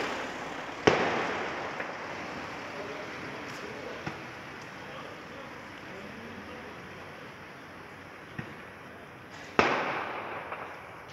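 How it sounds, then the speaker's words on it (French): A couple of loud firecracker bangs with a few fainter pops between them, scattered over a long stretch of distant outdoor noise, at a street gathering for an Algeria football match in Lyon, with police firing tear gas. "Il y a des pétards aussi."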